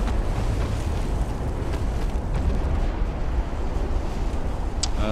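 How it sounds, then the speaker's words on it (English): A warship's ammunition detonation in the naval game Ultimate Admiral: Dreadnoughts, a continuous, heavy roaring rumble that holds at full loudness for several seconds without clear separate blasts, ending with a brief high electronic chirp. "Ammo detonation."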